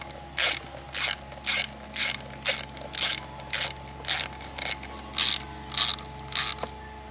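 A ratchet wrench tightens steel bolts into the aluminum housing of a KTM SX50 during a stator and coil replacement, giving about a dozen short, even bursts of close, crisp clicking with brief pauses between them.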